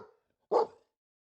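A single short dog bark from Cappy in the video game Victory Belles, sharp and close, standing alone in near silence after a faint earlier sound.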